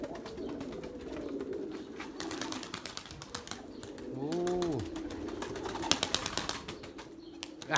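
Erzurum white pigeons cooing outdoors as birds land, a low continuous murmur with one clear rising-and-falling coo in the middle and a brief burst of wing flaps, fairly close.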